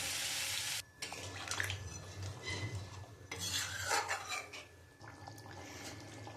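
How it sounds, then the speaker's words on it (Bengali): Water poured into a pot of meat curry with potato and papaya, a running, splashing pour with stirring and metal clinks against the pot, fairly quiet and close, no talking. "এবার আমি পরিমাণ মতন জল দিয়ে দেবো।"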